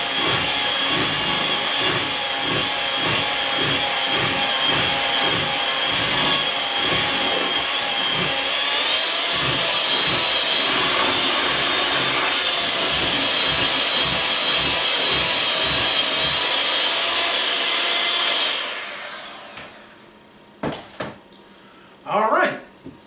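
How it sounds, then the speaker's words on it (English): A stand mixer whirs loudly and strains with a pulsing, labouring drone as it beats thick pumpkin bread batter, running steadily for about eighteen seconds before switching off, followed by a few brief clatters. "I can hear the mixer straining."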